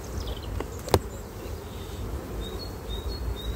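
Bees buzzing steadily at a beehive, a close, dense drone with a few higher insect whines passing by and a brief knock near the start.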